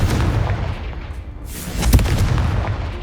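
The Confringo spell from Hogwarts Legacy goes off as a heavy booming blast, with dense rumbling noise throughout and a sharp, punchy impact near the middle, loud and close.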